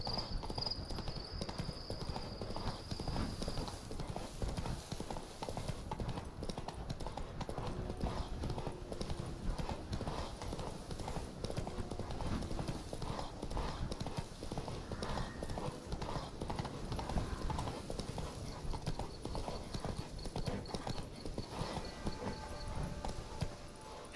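Roach, a horse in Witcher 3, gallops with a fast, steady clip-clop of hooves throughout, joined by an occasional whinny and a short voice line over game ambience.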